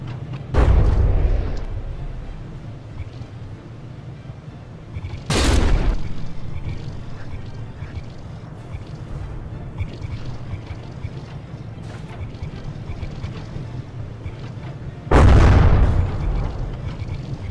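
Naval guns in the From The Depths tournament game fire shells and strike frigates, producing three loud booming blasts spaced several seconds apart over a steady low rumble of engines and sea.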